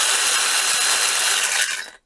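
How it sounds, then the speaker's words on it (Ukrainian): A Metabo MS 18 LTX 15 compact cordless saw with a soft start gives a loud, high, buzzing whir for about two seconds before it quickly dies away to silence. "Пилка оснащена е, плавним пуском, досить тихо працює."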